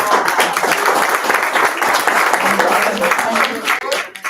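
Steady applause fills a school district board meeting's open session, a crowd of hands clapping continuously and fairly loudly for several seconds, faint voices underneath.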